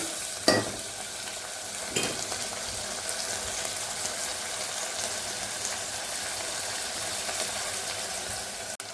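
Soaked moong dal dropped into a hot tempering for a South Indian rice rava dish, a loud burst of sizzling followed by steady frying hiss and stirring, close and continuous.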